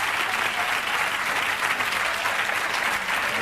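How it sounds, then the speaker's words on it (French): A theatre audience applauds in a steady, dense wash of clapping that fills the whole moment without pause, loud and close, with faint crowd murmur mixed in. "applaudissez-le quand même, encouragez-le"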